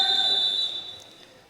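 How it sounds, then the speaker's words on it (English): A referee's whistle sounds at a Eurohockey Club Champions Cup field hockey match between Valenciennes and Partille, a single shrill tone that fades over about a second. "As we have a whistle."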